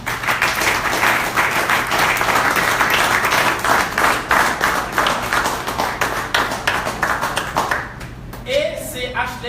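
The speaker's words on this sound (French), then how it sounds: "Je vous demande d'applaudir et d'accueillir Gadi." An audience applauding at a photography festival in Haiti, a dense steady clapping that fades near the end as a voice begins speaking.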